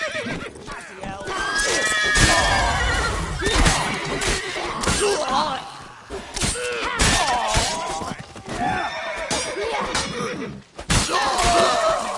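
A horse neighs loudly in The Witcher 3, with whinnies rising over hoofbeats, crashes and thuds amid a busy, shouting game scene.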